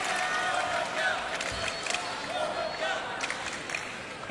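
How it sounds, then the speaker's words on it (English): A table tennis arena crowd chants the name of Japanese player Honoka Hashimoto during a women's singles quarterfinal, a broad, steady roar of many voices filling the hall, with a little scattered clapping. "Crowd chanting the name now of the Japanese star"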